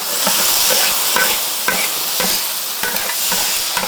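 Lamb being stir-fried in a wok with soy sauce and chili, a loud close crackling sizzle broken by rhythmic scraping strokes of a spatula, about one stroke every half second, no talk.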